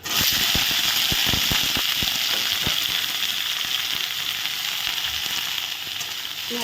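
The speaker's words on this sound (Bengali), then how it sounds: "কালো জিরাটা ভালো করে ভেজে নিলাম এখন আলু পটল আর বেগুন দিয়ে দেবো" Potato, pointed gourd and eggplant frying in hot oil with black cumin seeds and green chillies in a home-kitchen pan, giving a steady loud sizzle with crackling pops throughout and no talking.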